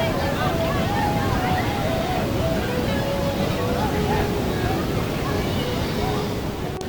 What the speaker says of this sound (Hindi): उसके दाईं तरफ एक झरना और ये कुंड का दृश्य आपको हम दिखा रहे हैं।